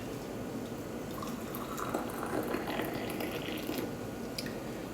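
Boiling water pours steadily into a small teapot to warm it, a continuous liquid splashing with faint clinks, close and moderately loud throughout.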